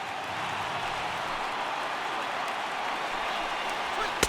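A big stadium crowd roars and cheers steadily at a ballpark in MLB The Show 18, a dense, sustained wash of voices lasting throughout, with a brief sharp peak near the end.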